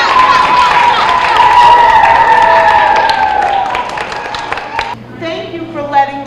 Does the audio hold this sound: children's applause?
yes